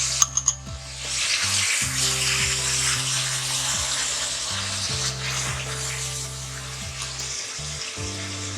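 Chicken pieces fry in a pan with a loud, continuous sizzle, opening with a few sharp clinks, while a low steady hum drones underneath.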